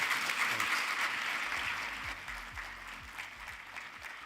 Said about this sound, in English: with a warm applause